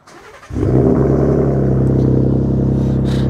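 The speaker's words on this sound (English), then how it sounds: "here's a somewhat semi cold start" A vehicle engine turns over and catches on a semi-cold start: a short crank, then a sudden loud rumbling idle that settles into a steady, even drone nearby.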